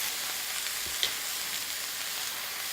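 Vegetables and chilies sizzle in a hot pan for a fall vegetable curry, a continuous bright hiss with one soft clink of a utensil.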